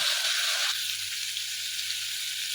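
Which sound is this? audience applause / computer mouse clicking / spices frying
spices frying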